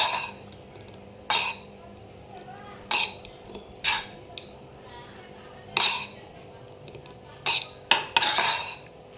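Tamarind rice being mixed with masala in a pot, a spoon clanking sharply against the metal every second or two over a quiet, faintly murmuring background.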